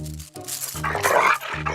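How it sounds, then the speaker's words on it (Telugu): A dog in a comedy film scene makes a few short, close, throaty vocal bursts in quick succession, loud and brief. "ఇది కరిచే కుక్క అస్సలు అరవదు"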